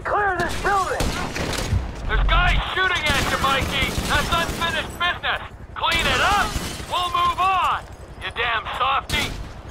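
Rapid gunfire in Grand Theft Auto V, loud bursts of shots mixed with shattering, chirping sounds and game effects, with voices talking throughout.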